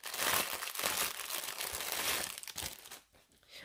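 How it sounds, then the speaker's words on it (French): Continuous crinkling and rustling of packaging being torn open around a gift eye mask, close and fairly loud, fading near the end, with no speech. "Je vais le déballer."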